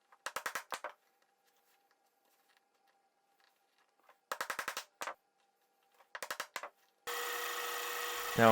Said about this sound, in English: Now we're drilling that out.